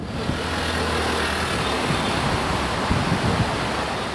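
Water of the Kaveri river rushing steadily at Mukkombu dam, a broad continuous roar close by with no voices over it.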